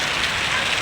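Steady rain hisses on surfaces as a continuous, fairly loud wash with no break, heard during a brief moment outdoors in heavy evening rain.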